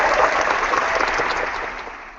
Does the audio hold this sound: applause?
yes